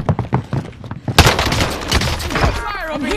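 Rapid gunfire bursts from the video game Call of Duty Warzone, loud cracking shots and a fusillade of machine-gun fire with booming impacts, people talking over the action.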